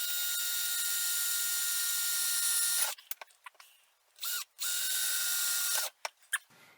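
A power drill bores through a wooden board over a tape roll and cutting board while making a DIY Christmas card hanger. A long, steady, high-pitched whine is followed by short bursts and a second sustained run, close and loud.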